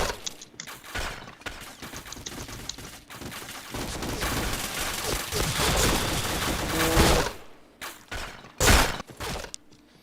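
Rapid bursts of gunfire and headshot volleys from a multiplayer video game shooter, loud and dense through most of the stretch, with sharp separate shots near the end and a faint voice now and then.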